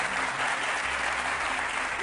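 A studio audience on a French TV quiz show applauds, a dense, steady wash of clapping that holds at the same level throughout the short stretch.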